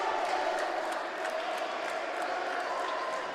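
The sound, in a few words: basketball crowd cheering after a putback basket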